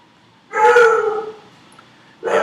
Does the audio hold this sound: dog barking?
yes